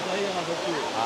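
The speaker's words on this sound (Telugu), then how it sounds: "ఇంకా దగ్గర నుంచి చూడాలంటే ఇది వాటర్ ఫాల్స్. జర్ర జారుతుంది." A waterfall at Araku roars as a constant broad wash of falling water, with faint voices mixed into the steady rush.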